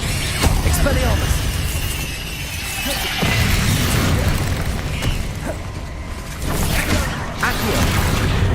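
Expelliarmus disarming spell cast in Hogwarts Legacy, a crackling magical burst with heavy booms and rumbling impacts amid ongoing combat effects, with a voice heard over the action.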